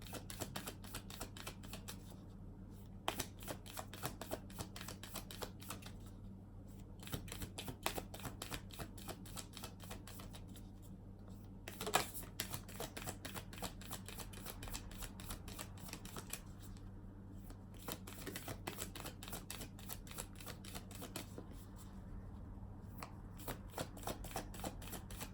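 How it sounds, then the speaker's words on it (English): Cards being shuffled repeatedly in quick riffling bursts, a steady dense clatter with brief pauses between shuffles, close and moderately quiet. "I'm just gonna shuffle from one of these decks for you guys"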